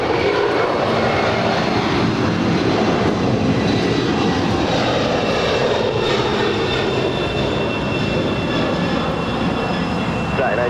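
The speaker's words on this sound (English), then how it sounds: "That is Atlas Air 9481 going to Hong Kong" An Atlas Air cargo plane departing LAX for Hong Kong roars steadily and loudly for the full stretch, a broad sustained jet-engine rumble with a faint whining tone layered on top.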